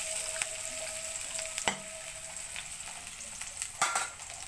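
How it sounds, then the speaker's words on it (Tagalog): Food sautés in a pan with a steady, close hiss of sizzling oil, broken by a few sharp scrapes and clinks of stirring, with no voices. "Gisa-gisa muna tayo ng gisa."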